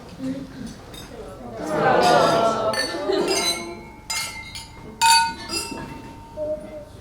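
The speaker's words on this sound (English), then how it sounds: "So, if everyone could just raise a quick glass to Rob." Wedding guests clink glasses together in a toast during the reception speeches, with a scattered run of bright, ringing clinks building and overlapping amid the murmur of people talking in the room.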